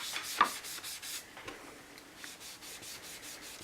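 A sponge rubs and dabs ink onto paper cardstock, filling in a sunburst design with a soft, repeated scuffing texture that stays fairly quiet and close throughout.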